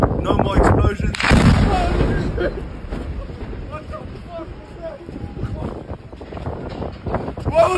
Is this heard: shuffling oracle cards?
no